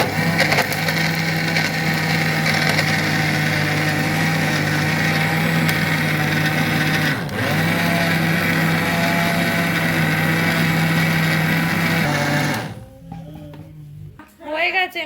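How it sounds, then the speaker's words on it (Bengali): A kitchen mixer grinder whirs loud and steady, grinding roasted ingredients into a homemade nutritious powder, then stops abruptly near the end; a voice speaks briefly once it cuts out. "মিক্সিতে গুঁড়ো করা"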